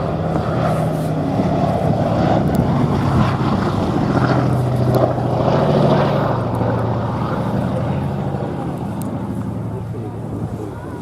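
The B-17 Flying Fortress Sally B drones with a steady, rumbling piston-engine tone that swells and fades slightly, with wind and some background talk.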